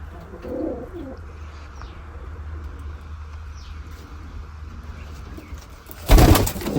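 Pigeons at a nest give soft, low cooing near the start, with faint chirps over a steady low hum, then a sudden loud burst of noise at the end.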